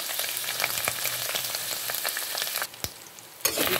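Ground pork with ground pepper is stirred as it fries in a pan, a soft crackling sizzle with scraping spatula strokes and a sharp clack, close and alone, briefly quieting before resuming.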